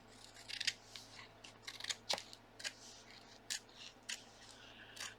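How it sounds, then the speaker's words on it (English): Scissors snip through gluebook pages in a quiet room, a series of short, crisp cuts with brief pauses between them, close and moderately soft, with no talking. "trimming all the pages."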